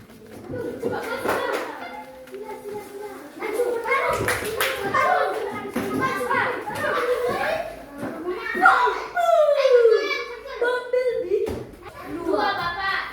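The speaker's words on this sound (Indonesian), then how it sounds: "tepuk tangan untuk kelompok 2 pemenang ini" Schoolchildren in a classroom applaud the winning group, giving a few bursts of clapping mixed with children's chatter and chuckles, while voices talk over much of the scene.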